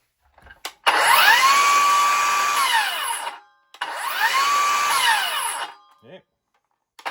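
A HERCULES 20V cordless 7-1/4 inch rear-handle circular saw spins up twice, each run a loud, close whine that rises, holds steady for about two seconds, then winds down.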